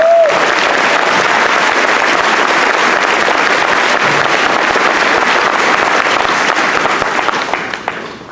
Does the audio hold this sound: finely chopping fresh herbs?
no